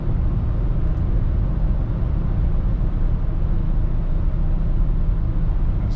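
Range Rover L405 cruising in sixth gear at 2,500 rpm on a wet road, a steady low engine drone with road and cabin rumble throughout, no talk.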